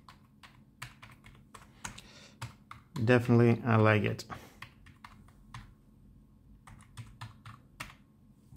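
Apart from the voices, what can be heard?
typing on Silvercrest wireless keyboard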